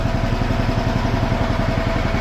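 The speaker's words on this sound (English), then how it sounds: "We have the engine running." Small engine of a Trail King 110HED steerable RC vehicle running steadily at idle, a close, continuous buzzing clatter with a fast, even pulsing rhythm and no talk over it.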